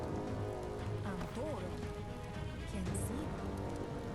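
Rain falls steadily in the Biomutant video game, a dense hiss running under the whole stretch, mixed with game sound effects and short tonal whoops while a voice talks over it.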